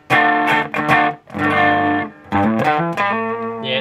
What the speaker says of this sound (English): it's still got a bit of distortion in it